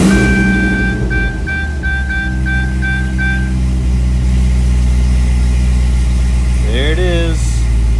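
A Corvette drift car's engine idles with a steady, deep rumble close by, a brief electronic tone sounding early on and a short spoken remark near the end.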